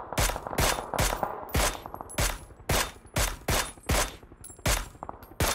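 Rapid bursts of automatic gunfire in the PUBG battle royale shooter, about ten loud, sharp volleys in an uneven rhythm across several seconds with no talk over them.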